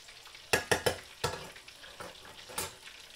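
Battered tilapia fillets fry in a deep fryer: a string of sharp, loud clattering bursts, three quick ones then a few spaced out, rises over a steady close sizzle as the fillets are handled.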